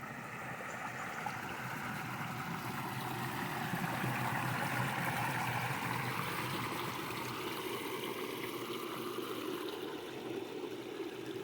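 A river in the Staffordshire Moorlands countryside flows with a steady, even rush and trickle of water, close by and unbroken for the whole stretch, with no voices.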